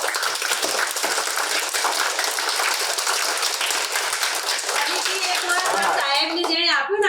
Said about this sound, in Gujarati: બંને આપણે બહેનો માટે તાલી પાડ દો